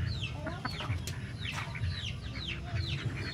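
Chickens of a black bloodline, crossed with Nelson Black, cluck and chirp repeatedly in a mountain yard, several birds at close to moderate distance under a steady low background rumble.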